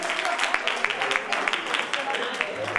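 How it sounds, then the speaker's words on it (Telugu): An audience at a gathering of artists and tribal welfare school staff claps, scattered steady hand claps at moderate distance, with a voice speaking over them. "దయచేసి గురుకుల ట్రైబల్ వెల్ఫేర్లో అందరు చప్పట్లు కొట్టుకోండి గట్టిగా"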